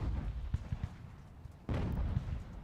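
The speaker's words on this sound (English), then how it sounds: "I'm confused by the artillery fire I keep hearing, because I don't see anything." Distant artillery fire in the strategy game Ultimate General: American Revolution, a few muffled booms and thuds scattered over a low battlefield rumble, with one heavier blast midway.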